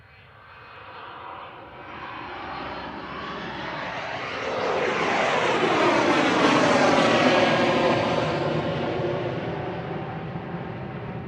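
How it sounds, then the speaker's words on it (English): A FlexJet jet takes off from Manchester Airport bound for Paris Le Bourget, its engine roar swelling over several seconds to a loud, sustained peak as it passes close by, with no talking. "So FlexJet's up next, off to Paris Le Bourget."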